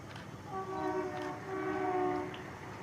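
An Indian meter gauge diesel locomotive train sounds its horn in two sustained blasts, fairly loud over a steady rumbling background as it passes.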